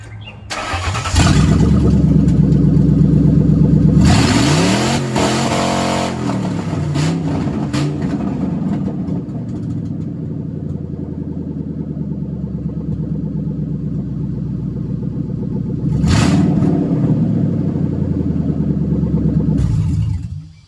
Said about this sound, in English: we're gonna start this open manifolds and then bounce it off the rev limiter if it will.